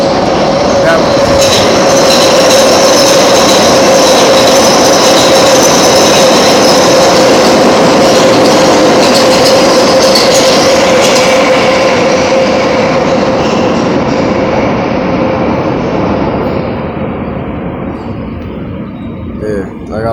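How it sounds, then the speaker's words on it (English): A train rolls past very close and loud, a continuous heavy rumble with metallic wheel hiss and a faint squealing tone, slowly fading as it moves away. "Let me let this train pass."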